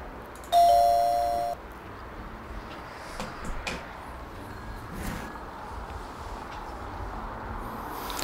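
In the Zak McKracken and the Alien Mindbenders adventure game, a shop doorbell gives one sustained electronic ring lasting about a second, followed by a few faint clicks and low room noise.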